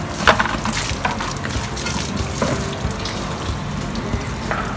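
Water splashes and runs steadily over a sprayer pump nozzle being washed during pesticide equipment decontamination, a continuous noisy gush with a few sharper splashes and knocks.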